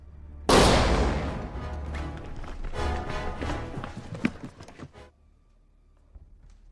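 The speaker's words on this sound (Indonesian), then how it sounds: "lama kemudian, Connors dan Shane datang lalu mendengar ada suara tembakan dari dalam rumah Lee." A loud, sharp blast opens, followed by a rapid flurry of cracking shots and clattering impacts that fade out after a few seconds.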